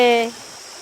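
A waterfall stream in the hills of Kanyakumari district gives a steady, broad rush of flowing water. A voice is heard briefly at the start before the water sound carries on alone.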